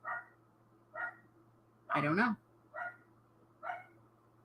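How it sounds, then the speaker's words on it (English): Dogs bark indoors in short, evenly spaced yips, four brief barks around a louder burst, heard against a steady low hum, with a person speaking briefly. "Why are my dogs going crazy?"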